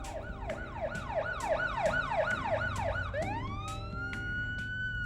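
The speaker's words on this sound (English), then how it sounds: "sirens." A wailing siren in the film Silent Hill sweeps up and down in rapid repeated cycles, then shifts to a long rising steady tone, loud and close over road noise.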